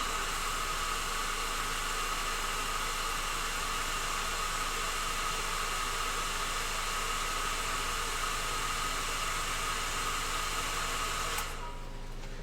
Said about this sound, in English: I'm going to quickly grab my hair dryer.